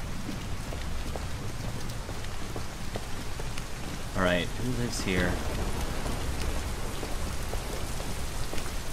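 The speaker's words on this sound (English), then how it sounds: "It's a lot of heavy rain." Heavy rain pours steadily in the Detroit Become Human video game, a dense hiss on surfaces with a brief spoken line from a man midway.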